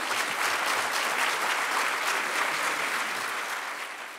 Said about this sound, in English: A big round of applause for Shaun Tan.